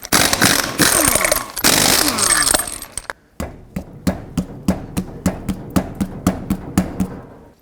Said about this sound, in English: take off all 6 lug nuts using a 21mm socket